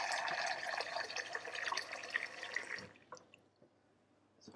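Tap water running into a cooking pot in a kitchen, a bright steady splashing stream that fills for about three seconds, then cuts off, leaving a few faint drips.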